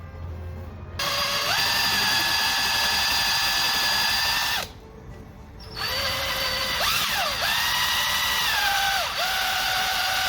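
A power drill boring out a rusted bolt on the intake manifold of a 1987 Toyota 4Runner 22RE, running in two long whining bursts with a brief pause between and a dip in pitch as the bit bites and breaks through.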